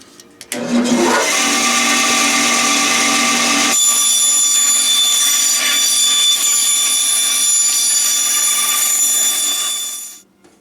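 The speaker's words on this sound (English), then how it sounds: "I have a bandsaw that works pretty good" A bandsaw whines steadily as it cuts through foam for a slot car track landscape, starting with a rough burst of cutting noise and then settling into a loud, even motor drone for about ten seconds before spinning down.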